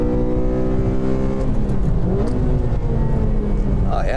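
A Honda Civic Si engine drones loudly and continuously, revving and shifting pitch as it accelerates hard around a race track on hot laps, with whirring tire and wind noise.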